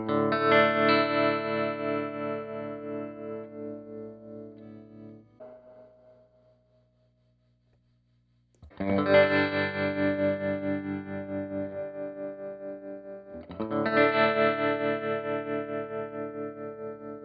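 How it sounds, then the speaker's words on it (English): An electric guitar plays lush, sustained chords through the tremolo circuit of a Fender Excel amp, the pulsing volume wobble clearly audible. Three strummed chords each ring out and decay, with a near-silent gap after the first. "It has a tremolo circuit, which sounds really great. It's really lush,"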